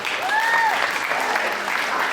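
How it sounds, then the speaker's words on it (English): Audience at a high school hypnosis show during a winter ball applauds steadily in a dense wash of clapping, with a few whistles or shouts rising over it. "Give them a big round of applause."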